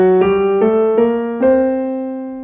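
Notes of the Mixolydian sharp 11 mode played one after another on a clean melodic instrument, each attack ringing into the next over a steady low note, loud and alone.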